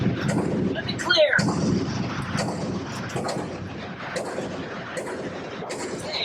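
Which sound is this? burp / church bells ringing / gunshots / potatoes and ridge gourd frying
gunshots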